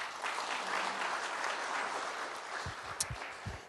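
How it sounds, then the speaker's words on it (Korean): Audience applause at a business CEO forum, a dense steady wash of clapping filling the room throughout, with a few louder claps near the end as it tapers. "박수 한번 더 치겠습니다."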